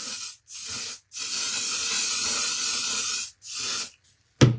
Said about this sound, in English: So we're going to go ahead and spray this all over.